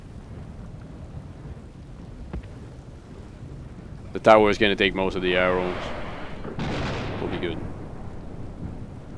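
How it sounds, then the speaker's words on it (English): Thunder rumbling through a rainstorm in Rome: Total War, a loud broad burst that rolls on for a few seconds, heard under someone talking over the battle. "Thunder!"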